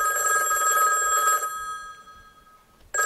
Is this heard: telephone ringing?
yes